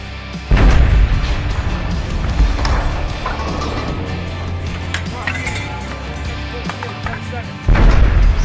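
Artillery gun fired in a shooting competition: a heavy low boom opens, then a long rumbling decay with scattered metallic clinks, and a second loud blast near the end.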